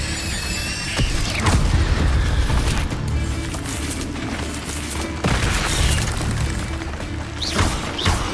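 Fire spell cast in Hogwarts Legacy gameplay: a loud, dense roaring burst with crackling, whooshing flame and mechanical clanks, surging in two long waves, with no talk over it.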